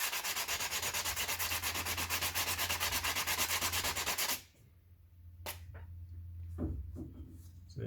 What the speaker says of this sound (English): the thing with the sanding pad is they work really well at smoothing stuff off